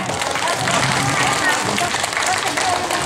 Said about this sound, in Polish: A brawa dla Julianny.